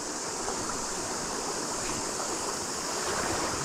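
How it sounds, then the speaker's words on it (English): A forest river rushes steadily past close by, a constant, dense hiss of flowing water with no pauses. "Well, I've made it into the river."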